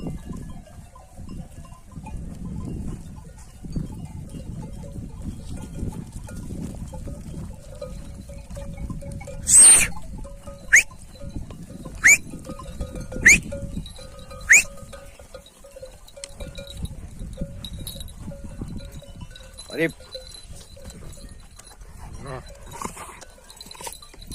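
A flock of sheep is herded along outdoors, with scattered bleats and animal calls over a low shuffling background, a cluster of sharp calls midway, and people talking at times.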